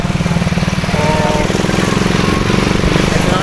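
A manual motorcycle engine runs close by with a loud, rapid, evenly pulsing putter that stays steady from start to finish.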